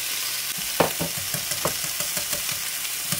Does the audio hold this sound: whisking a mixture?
yes